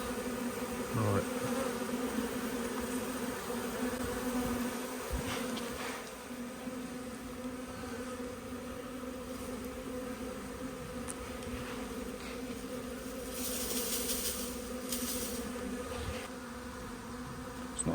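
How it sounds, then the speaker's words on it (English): Honey bees swarming on a house roof produce a steady, dense buzzing hum that holds throughout, with a few faint higher bursts of nearby insects passing close and no talking. "It's not a very large amount of bees, to be honest."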